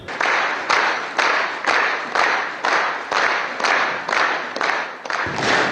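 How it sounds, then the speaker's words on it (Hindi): Rhythmic clapping fills Ethiopia's parliament in repeated unified bursts, about two per second, a loud crowd applauding a speech by Prime Minister Modi. "प्रधानमंत्री मोदी के इस भाषण के स्वागत में इथोपिया की संसद में 50 बार तालियां बजाई गई।"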